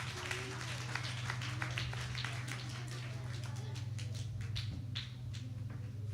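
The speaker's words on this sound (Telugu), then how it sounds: "గట్టిగా అందరూ చప్పట్లు కొడదాం" Audience at a Sunday church VBS prize event clapping steadily for several seconds, a dense patter of many hands over a low constant hum, with no one speaking.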